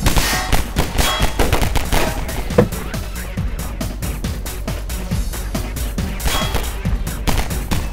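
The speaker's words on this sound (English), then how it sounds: "Please stop shooting at me." Rapid gunfire rattles nonstop in the Half-Life 2 video game, dense bursts of shots aimed at the player, loud and continuous across eight seconds with occasional heavier impacts.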